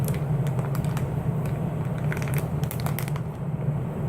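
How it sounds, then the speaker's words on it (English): A resealable plastic zipper bag from a Walmart haul is handled up close, giving steady crinkling and crackling with scattered sharp rustles over a constant low hum. "It's got a zipper seal on it"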